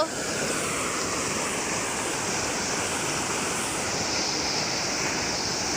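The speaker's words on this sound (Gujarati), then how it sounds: "તમે જોઈ શકો છો અહીંયા આ પાણી કેવો ધોધ પણ સંભળાય છે" Rushing water roars in a steady, broad wash of noise, continuous and even throughout with no voices.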